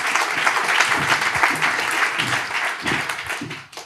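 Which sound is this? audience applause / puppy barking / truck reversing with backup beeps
audience applause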